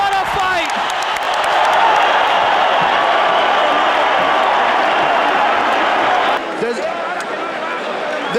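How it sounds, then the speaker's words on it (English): A boxing arena crowd applauds and cheers after a hard-fought bout between Erik Morales and Marco Antonio Barrera, a loud, sustained roar of clapping and whoops beneath ringside commentary, easing slightly toward the end. "Both for the fighters deserve a hand of applause."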